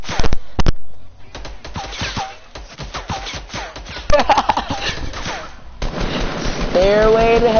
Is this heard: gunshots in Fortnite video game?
yes